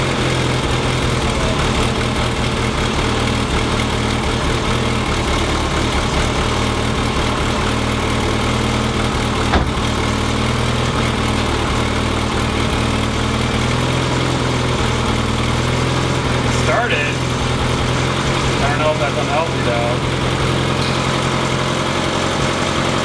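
A Mazda Miata engine idles after a fresh timing belt replacement, with no coolant yet in the system, running as a steady, loud, even drone with a faint rhythmic pulse and occasional small mechanical ticks, no talking over it.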